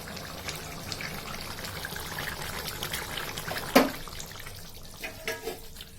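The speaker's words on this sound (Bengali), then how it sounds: "নাড়িয়ে ঢেলে নিচ্ছি।" Soybean chunks cooking in a pan are stirred and poured, giving a steady soft sizzle and trickle with a sharp clink partway through and a few scraping knocks near the end.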